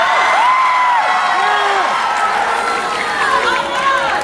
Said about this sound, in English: Somebody's booing me about Justin Bieber.